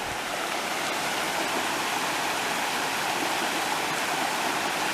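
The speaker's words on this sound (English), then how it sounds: "here's one of the streams" Mountain stream tumbling down from Dark Hollow in Shenandoah National Park toward the Rose River, a steady, close, full rushing wash of water with no voices, holding even for the whole five seconds.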